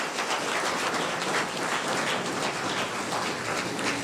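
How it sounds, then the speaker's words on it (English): A crowd applauding steadily at a cabinet ministers' swearing-in ceremony, dense even clapping that holds at the same level throughout, with no talking. "Let's give yourselves a round of applause,"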